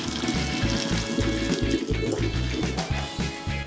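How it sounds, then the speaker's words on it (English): Hot cooking water from ramen noodles pours through a strainer into a sink, a loud, steady gushing splash close up, lasting a few seconds with no voices. "once that's fully cooked, I'm gonna drain that out and leave the noodles set aside in the strainer"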